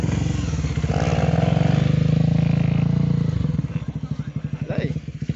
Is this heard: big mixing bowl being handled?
no